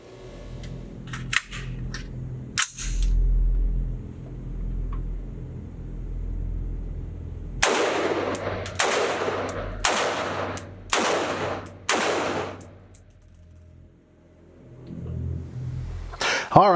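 A North Star Arms NS-15 rifle fires five rounds from its magazine at an outdoor range: loud, sharp, evenly spaced shots in quick succession, preceded by quieter handling clicks and followed by further metallic handling.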